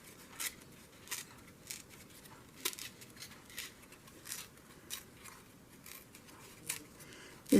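Scissors trim a paper greeting card in quiet, evenly spaced snips, about one crisp cut per half second, close and soft against a near-silent room.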